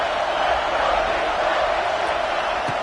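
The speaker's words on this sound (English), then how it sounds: "And here comes the noise. This crowd is trying to inspire this defense to make a big red zone stop." A stadium crowd at a football game roars in a steady, dense wall of noise throughout, loud and continuous with no pauses or clear voices standing out.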